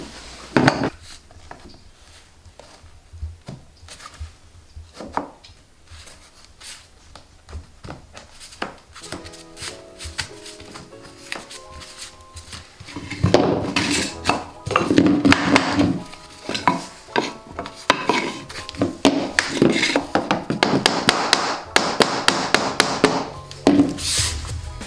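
Vinyl flooring planks are knocked tight into place during installation, sharp taps scattered at first and then coming in dense, loud runs of repeated blows mixed with clattering.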